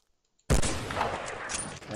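A sniper rifle fires in The Walking Dead video game: one sudden loud shot after near silence, followed by a sustained rumbling decay lasting over a second.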